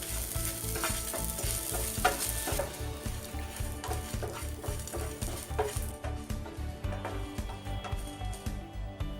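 Steady sizzling and stirring as grated coconut dry roasts in a hot pan, with scraping strokes at an even rhythm, close and fairly loud, no talking.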